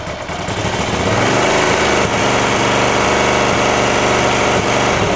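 A restored Ducati Cagiva Elefant 900 motorcycle engine runs loud and steady close by, its revs climbing briefly before settling into a sustained, even drone with a rough mechanical buzz.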